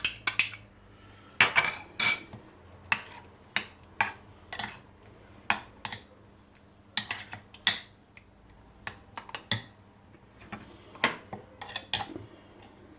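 Sharp clinks and taps of a spoon against a bowl, irregular and close, with soft scraping as chopped green peppers are stirred.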